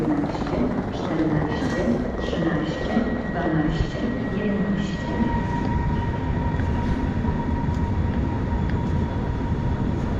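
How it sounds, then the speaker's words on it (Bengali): A train rolls into Gdańsk station in Poland with a steady rumble and faint high squeals, continuous and fairly loud throughout, while voices murmur in the background. "ঘড়ির কাঁটা ধরে ট্রেন এসে থামল গেডান্স্ক স্টেশনে।"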